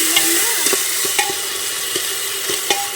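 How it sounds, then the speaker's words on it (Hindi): Small hill tomatoes and a green chilli and coriander paste cook with onions in a pan for a village-style taro curry, with a steady sizzle and repeated sharp clicks of a spoon stirring against the pan. "अब मसालों और टमाटर को भी 1 से 2 मिनट तक प्याज के साथ अच्छे से पकने देंगे"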